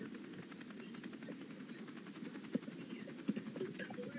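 Helicopter rotors beat in a fast, steady low chop from a distance during storm chasing near a tornado, with faint wind and occasional knocks over it.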